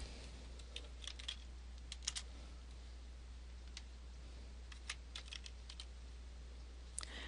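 Typing on a computer keyboard while entering a unit acronym and fiscal year into a form, with quiet, irregular clicks in short bursts over a low steady hum.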